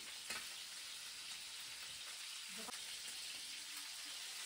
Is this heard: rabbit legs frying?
yes